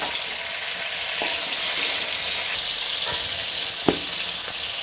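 Jujube pickle cooks in a pan while being stirred, a steady broadband sizzle of hot oil with a few soft scraping knocks of the spoon against the pan, with no talking.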